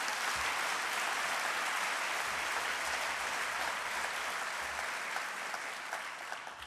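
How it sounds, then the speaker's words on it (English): At the 2015 CSULB university convocation, a large audience gives sustained, even applause. The dense clapping stays full throughout and eases only slightly toward the end. "Please join me in a round of applause for those departments."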